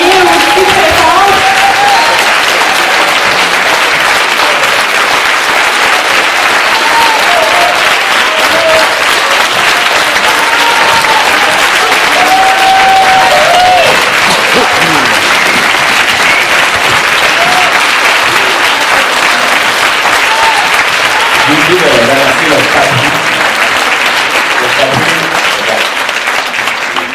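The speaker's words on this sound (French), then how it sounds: "d'applaudir les vidéastes qui ont travaillé aussi très fort." Sustained audience applause at a community housing-rights event, a dense steady clapping crowd filling the whole stretch with scattered voices and cheers mixed in.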